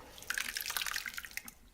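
Purple yam makgeolli, a Korean homebrewed rice wine, is poured from a vessel into a filter bag over a large bowl, giving a close, splashy trickling and dripping that swells and then tapers off.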